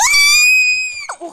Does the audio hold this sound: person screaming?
yes